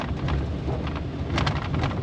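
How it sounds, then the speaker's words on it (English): Loose door panels rattle and clack inside an OBS Ford truck on the move, a continuous rough rumble of road and cabin noise with scattered knocking clatter throughout. "That's the sound of all the door panels being loose."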